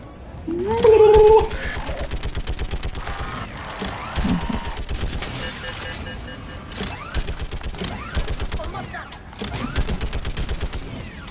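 Turret gunfire in the video game Mass Effect Legendary Edition, steady rapid bursts of automatic fire that run for most of the stretch, with players talking over it.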